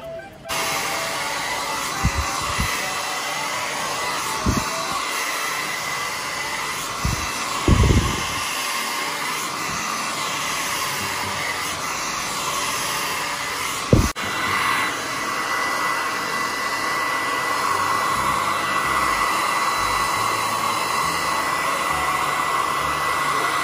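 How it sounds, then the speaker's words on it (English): A hair dryer blow-drying a child's hair before braiding runs as a loud, steady whoosh throughout, with a few brief thumps and knocks near the start. "Before I braid it, I'm gonna blow dry all his hair out."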